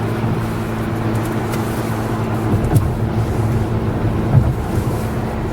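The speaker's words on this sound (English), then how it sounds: "You can still hear it. Right. Four-cylinder noise." Steady low four-cylinder engine drone inside the cabin of a 2021 Acura TLX, a constant rumble with road and wind noise, no talking.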